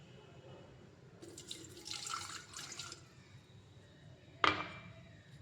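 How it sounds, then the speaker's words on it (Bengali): A cup of water being poured into an electric kettle, a brief splashing pour followed by a sharp clink, close and fairly quiet. "এই জল গরম করা কেটলিতে আমি 1 কাপ জল ঢেলে দেব"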